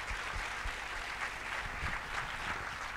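A festival audience applauds Stéphane in a continuous, dense patter of many hands clapping at once, steady and fairly distant throughout.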